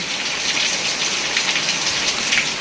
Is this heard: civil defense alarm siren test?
no